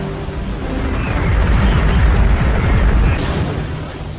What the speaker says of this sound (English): Sir, the Hive is returning fire.